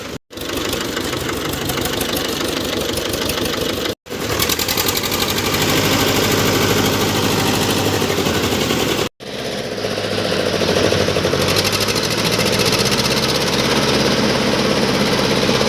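An old HMT farm tractor engine is started and runs at idle with a loud, close, chugging knock. It cuts out briefly twice and catches again each time, then settles into a steady rumbling throb.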